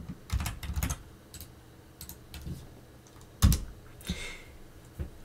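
A command is typed on a computer keyboard at a terminal: irregular clusters of close, crisp key clicks with short pauses between bursts and one sharper keystroke near the middle, no voice.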